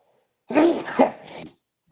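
A single sharp sneeze, close and fairly loud, with a short breathy tail before silence.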